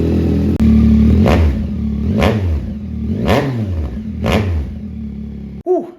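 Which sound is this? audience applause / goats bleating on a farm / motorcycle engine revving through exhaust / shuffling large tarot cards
motorcycle engine revving through exhaust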